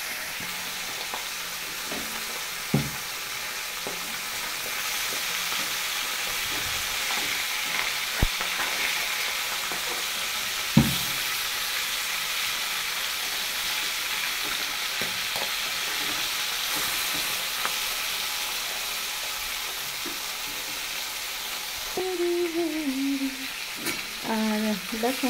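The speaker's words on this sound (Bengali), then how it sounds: "ঢেলা মাছটাও ভেজে নেব।" A whole dhela fish fries in hot oil, giving a continuous close, even sizzle for nearly half a minute, broken by a few soft knocks and ending with a brief wavering tonal sound.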